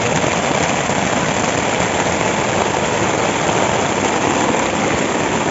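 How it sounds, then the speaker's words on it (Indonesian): Heavy rain pours down steadily on a mountain, a dense, loud, continuous roar that fills the whole clip without a break. "tiba-tiba hujan pun datang dengan derasnya"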